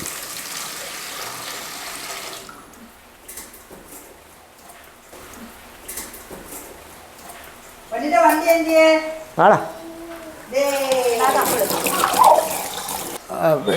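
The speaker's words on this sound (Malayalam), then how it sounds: "ഒരു കപ്പ് വെള്ളം അത് ആ കുക്കറിനകത്തോട്ട് നമ്മൾ ഒഴിക്കുക" Water splashing and pouring into a pressure cooker, with people talking over it in the second half.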